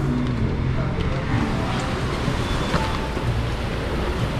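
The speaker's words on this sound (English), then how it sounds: "it's raining very heavily" Heavy rain pouring in Montreal, a dense, steady wash of broadband noise that stays loud and even throughout, with faint low rumble beneath and no clear talk.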